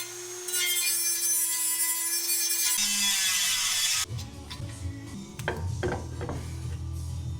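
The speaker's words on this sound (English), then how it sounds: "So I've got my Dremel tool right here. I'm gonna go ahead and get it started. We're gonna cut that piece off." A Dremel rotary tool cuts off a metal piece during an Akebono big brake kit conversion on an Infiniti G35 Coupe: a loud, steady high-pitched grinding whine for about three seconds, then a rougher, lower, uneven cutting rasp.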